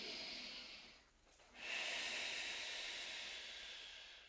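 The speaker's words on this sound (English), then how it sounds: "inhale, exhale." Steady breathing during a light-weights functional flow workout: a soft airy exhale, a brief pause, then a longer continuous breath of noise, close and moderately quiet with no talking.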